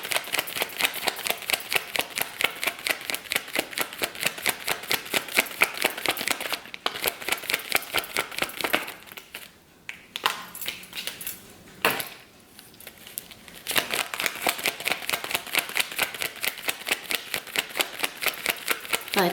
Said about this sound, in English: I feel like the shuffling is such a soothing sound.